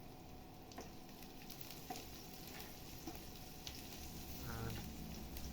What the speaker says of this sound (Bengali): তো এখন মোটামুটি আমরা একটু জিরা দিয়ে দিচ্ছি, কাঁচা জিরা